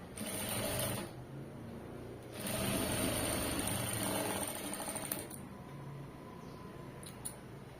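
A sewing machine runs close by, stitching a side seam in fabric with a steady, rapid mechanical whir that rises and falls in pace, pausing briefly between runs, with no voices.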